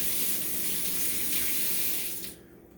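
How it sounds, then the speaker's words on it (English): Water runs steadily from a kitchen tap as hands are rinsed at the sink, a close, continuous hiss that cuts off abruptly near the end. "I'm just going to rinse my hands."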